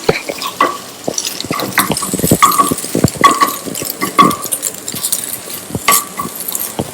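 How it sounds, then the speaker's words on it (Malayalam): Egg is stirred into masala in a pan on a high flame for macaroni, with a close sizzle under brisk, uneven scraping and clinking utensil strokes against the pan, and nobody talking. "ഈ മുട്ട നന്നായി ആ മസാലയോടൊപ്പം മിക്സ് ചെയ്യുക. ഇത് നമ്മൾ ഹൈ ഫ്ലെയിമിലാണ് ചെയ്യാൻ പോകുന്നത്."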